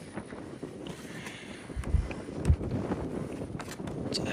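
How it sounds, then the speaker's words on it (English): Gusty wind buffets the microphone in a rough, low rumble, with a couple of louder thumps partway through. "God, it's windy."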